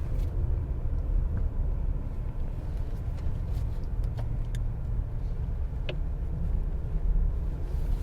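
A 2020 Toyota Highlander with a 3.5-liter V6 cruises along, giving a steady low engine and road rumble from inside the cabin that stays even throughout, with faint small ticks and no talking.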